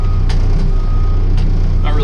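A school-bus skoolie backing up, its reversing alarm beeping steadily over a loud, close diesel engine rumble.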